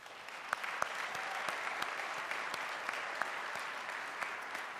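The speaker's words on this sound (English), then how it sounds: "I'd love for everybody to give themselves a round of applause just for being here this morning." A graduation ceremony audience applauds in a steady wash of clapping, with a few sharper claps standing out near the microphone.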